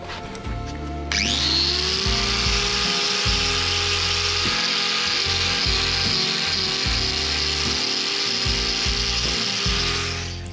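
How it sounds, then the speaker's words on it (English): A cow's four hooves are washed off before trimming, giving a loud, steady, close spray hiss that runs without a break, with low knocking and rumbling underneath. "let's get these four hooves, or eight claws, washed off and ready for the trim."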